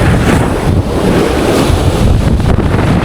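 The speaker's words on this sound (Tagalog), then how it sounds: "Tingnan nyo guys, ang laki ng alon." Big ocean waves crash and roar on a seashore, a loud continuous surf wash mixed with heavy wind buffeting the microphone, no talk.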